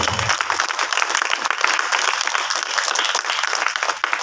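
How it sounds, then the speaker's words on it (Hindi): A congregation at a church meeting claps to thank the Lord, a dense, steady wash of applause filling the room for several seconds without a break, loud and close with no talking over it. "ताली बजाकर हम प्रभु का धन्यवाद करें"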